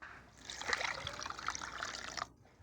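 Raw shrimp for a shrimp omelette are washed in water, a close, continuous splashing and trickling with small bright drips for about two seconds before stopping.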